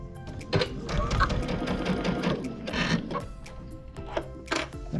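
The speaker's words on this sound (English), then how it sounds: "I'm gonna sew just like this." A sewing machine stitching a quilt seam, its rapid mechanical whir close and fairly loud in uneven bursts with brief pauses between runs.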